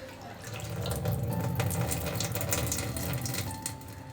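Tap water runs into a bowl of flattened rice (chira) being rinsed, a steady close splashing gush that lasts throughout.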